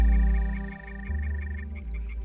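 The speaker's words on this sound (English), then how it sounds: "It's the first time that crickets have sung in the Venice Lagoon in perhaps a century." Insects singing in the Venice Lagoon: rapid, regular, pulsing chirps repeat steadily over a deep, low background hum, with no voices.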